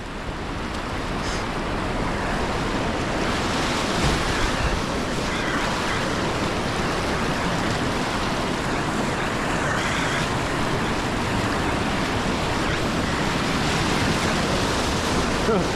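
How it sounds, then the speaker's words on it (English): Steady, loud rushing of fast whitewater at a whitewater park in Oklahoma City, boiling through eddy lines, fills the whole stretch, a continuous roar with no pauses, close by. "There's that boiling water in these eddy lines"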